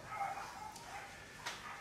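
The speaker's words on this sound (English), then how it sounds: "I'll take care of those dogs, please." Dogs bark faintly in the background, with a couple of short, distant barks and yips during a spiritual gathering.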